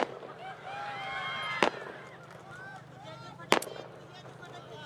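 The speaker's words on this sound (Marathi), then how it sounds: "हे फटाके जरा" Firecrackers burst at a political election rally, with three sharp loud cracks spaced about two seconds apart. Someone speaks steadily over them.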